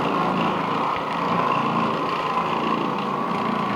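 An Oreck Orbiter floor machine with a bonnet scrubs a stained carpet, producing a steady, loud motor drone with a rough scrubbing texture that runs unbroken and close by.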